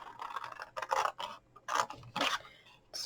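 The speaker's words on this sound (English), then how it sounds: "Cut straight up that score mark." Scissors snip and scrape along a score mark in a card gift box, giving a run of close, crisp cutting strokes in an uneven rhythm with no talk.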